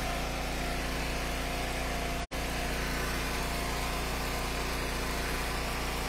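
A log splitter engine runs steadily and close by while ash and oak rounds are split, a continuous mid-pitched idling drone with one brief dropout partway through and no talk.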